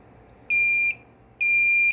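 Smoke detector alarm sounding from a System Sensor PDRP-2001 fire suppression control panel: two loud, steady high-pitched electronic tones, each lasting about half a second with a short gap between them.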